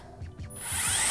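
A power drill bores into a rubber rain boot with an aluminium insole, giving a close, stuttering ratchet-like grind in short bursts that builds into a louder, steadier high whine.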